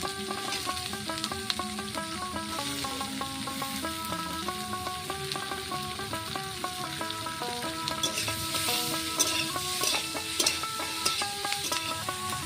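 Pointed gourd and green chillies fry in a pan with chopped ginger, giving a steady close sizzle with occasional stirring scrapes that run unbroken throughout, with music playing softly underneath.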